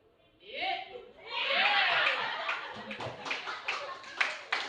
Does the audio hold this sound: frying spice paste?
no